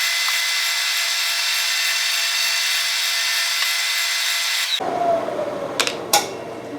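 A steady, loud mechanical whir of a drill in low range cutting the metal base of a tapping fixture, which stops abruptly, followed by a few sharp metallic clinks and scrapes.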